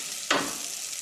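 Brown mustard seeds drop into a hot pan and burst into a short, sharp sizzle that quickly settles into a faint, steady hiss.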